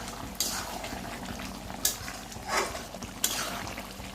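Meat cooking in a pan bubbles and sizzles steadily at a low level, broken by a few sharp scrapes and clinks as it gets stirred, heard up close with no talking.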